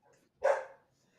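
A dog gives a single short, moderately loud bark a little way off, with near silence around it.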